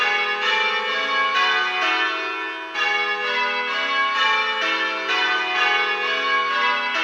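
A peal of church bells rings plain hunt on the Little Bob Minor method, with steady, evenly spaced strikes that repeat in rows and carry on without a break.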